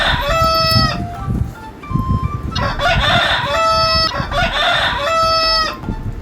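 A rooster crows loudly several times, long harmonic calls rising and falling, with a steady tonal hum beneath them.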